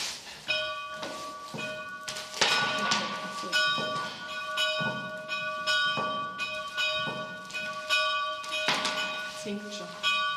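Church bells at a village church in Oberschnittenkofen ring out in repeated, resonant strikes, each leaving a long ringing tail, loud and close, while people talk now and then underneath.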